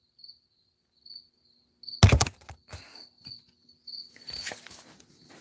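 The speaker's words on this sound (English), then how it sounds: "crickets are back" Several short bursts of cricket chirping, a steady high trill repeating in brief pulses, with a sudden loud rustling clatter midway and more scattered chirps continuing behind it.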